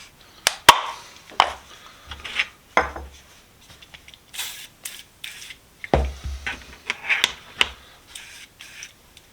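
Steel wool, grade 4/0, scrubs a Stanley Sweetheart combination square with irregular rasping strokes and scratchy bursts, close up, some louder scrapes and short pauses between passes.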